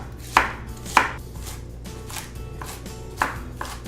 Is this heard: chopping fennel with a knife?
yes